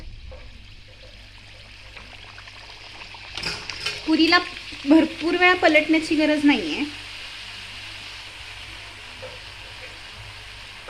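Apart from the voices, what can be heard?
puris deep-frying in hot oil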